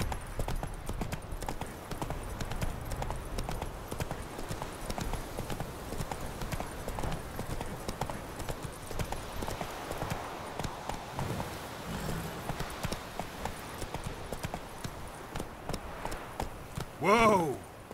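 Hooves of the horse Roach in The Witcher 3 clip-clop in a steady, rapid trot for the whole stretch, up close, with a brief snort or whinny near the end.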